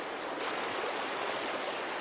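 Streams and torrents rush through Jamaican forest in a dense, continuous, loud roar of flowing water, steady and close with no voices.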